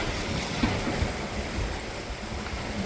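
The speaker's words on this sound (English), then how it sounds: "And the waves are big at times." Big Atlantic Ocean waves rushing past a sailboat at sea, a constant loud broadband wash with steady wind noise on the microphone and occasional soft thumps, no voices.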